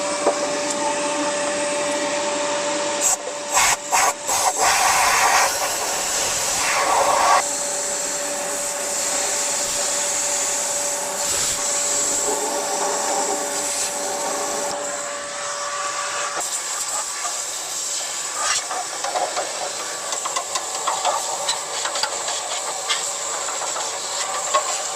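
A vacuum sucks loose foam debris out of the mouse-infested interior of a 1971 Toyota Celica TA22, a steady loud hissing roar running throughout with brief sharper bursts and hose-shifting changes partway.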